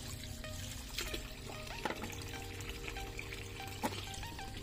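Fresh tap water pours and trickles steadily as fish and leafy greens are rinsed, with a few brief splashes over a constant low hum.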